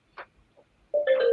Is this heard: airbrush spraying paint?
no